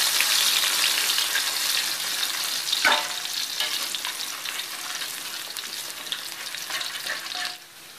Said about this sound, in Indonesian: sekarang kita masukin bawang merah sama bawang putihnya sampai matang